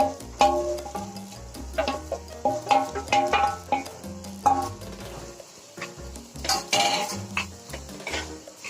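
Mashed potato filling is stirred in a metal pan with a spoon, giving repeated scraping knocks and clinks in an uneven rhythm, close and moderately loud, with a faint sizzle in places.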